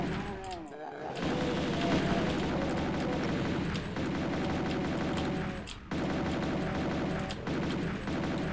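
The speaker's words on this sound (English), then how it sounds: "this pistol's firing about as fast as the chain gun" A pistol in the video game Doom fires rapidly, a fast, continuous stream of shots almost like a chain gun, steady and dense, broken by two brief pauses.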